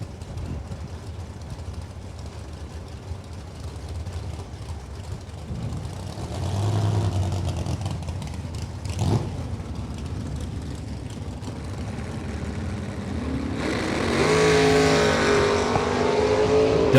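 Drag racing cars launch at a Summer Slam gamblers event, among them a left-hand steer roadster, their engines roaring from a distance with a sharp burst midway and a louder rising run near the end.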